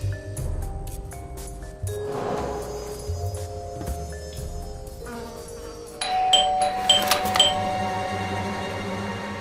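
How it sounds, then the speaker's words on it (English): A doorbell ringing inside a house in the game Blues and Bullets, clear ding-dong tones layered over moody background music, with another tonal chime burst near the end. "I thought I should use the doorbell so I wouldn't startle you."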